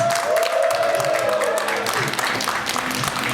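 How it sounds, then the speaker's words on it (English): A stand-up comedy audience breaks into sustained applause and cheering for a comedian, dense and continuous, with a voice sounding briefly over the crowd. "put your hands together for Lakisha"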